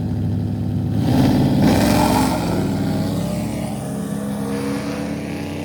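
Street race cars in Mexico, among them a Ford F-150, accelerate hard with loud, close engine roar that swells early, then eases into a sustained drone.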